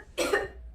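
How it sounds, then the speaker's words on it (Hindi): A woman gives a single harsh cough, close and fairly loud, a short burst that fades quickly into quiet. "खांसी आ रही है?"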